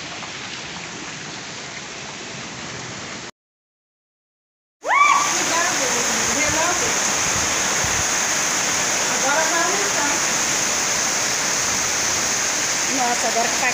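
Heavy rain pours down in Itapura, São Paulo, a dense steady roar of water close by that cuts out briefly to silence and then resumes loud with splashing drips.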